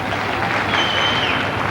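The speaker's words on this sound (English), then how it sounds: "Rightly, the crowd applauds that." Arena crowd at Wembley clapping for a young gymnast's parallel bars routine, a dense steady wash of applause that stays even throughout the short stretch.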